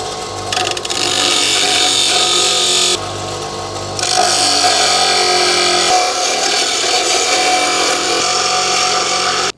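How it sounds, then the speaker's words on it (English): A bench grinder grinds the edges off a GoPro metal thumbscrew to make two flat sides. The abrasive grinding is loud and continuous, with brief breaks and changes in pitch as the screw is pressed to the wheel and repositioned. "I'm just going to take the edges off here and create two flat edges with my bench grinder"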